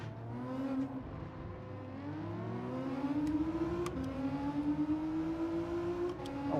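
A race car engine in Gran Turismo 7 revs continuously, its pitch climbing and shifting through gears, loud and close with a steady roar throughout.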